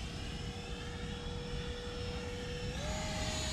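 3D printed Mirage 2000 model jet cruising at half throttle, a steady, loud jet whine with a high tone that rises slightly in pitch near the end, heard alone.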